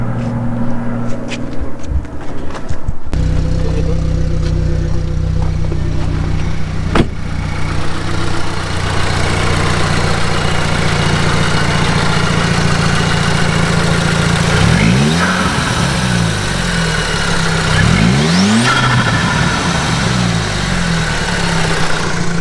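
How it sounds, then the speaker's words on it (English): Audi fitted with test pipes making a cold start, with a loud starter catch, then a rough, raspy idle and two sharp revs that rise and fall near the end, close and alone. "It's gonna be a cold start."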